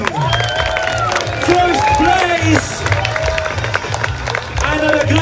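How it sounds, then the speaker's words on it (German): Loud crowd applause and cheering at an international WCMX wheelchair skate contest in Füssen, sustained clapping and whoops close by, with an announcer talking over the noise. "Gibt es einen riesen Applaus"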